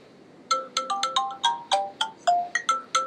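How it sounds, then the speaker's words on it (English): A bright electronic ringtone made in GarageBand on an iPad plays a quick melodic pattern of short chiming notes, repeating rhythmically and clearly, with no talking. "I guess that's not the ringtone."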